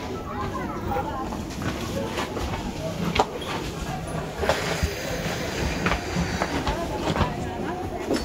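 A passenger train pulls into a station at the end of a long journey, with a continuous rumble of rolling wheels, occasional metallic clacks and squeals, and voices in the carriage around it.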